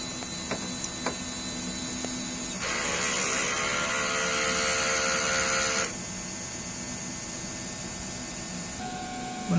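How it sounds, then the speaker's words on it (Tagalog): Whirring mechanical hum of a DTF printer running a strong print head cleaning cycle, rising into a louder, steady pumping noise for about three seconds before dropping back to a quieter motor drone. "Mag head clean tayo. Pindutin natin yung clean,"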